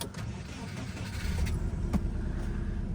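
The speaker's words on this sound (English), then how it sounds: "Sounds like a Subaru." A 2000 Subaru Legacy B4 RSK engine runs close by with a steady, low rumbling drone and slight mechanical noise, heard alone without talk.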